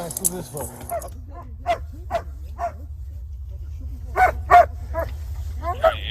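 A police K-9 dog barks and yelps in short bursts, some sharp and some whining, amid outdoor rumble and people talking nearby during a police pursuit.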